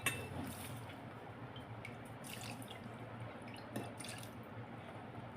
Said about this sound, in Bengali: এখানে আমি দুধ দিচ্ছি 2 হাতা।